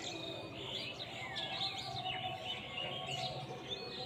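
Birds chirping and tweeting in an overlapping chorus, several calls at once against a steady outdoor background hum.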